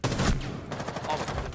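Pistol gunfire in the Rainbow Six Siege video game, with quick, close sharp shots and loud reports blending together over a dense game soundscape, all within a brief moment.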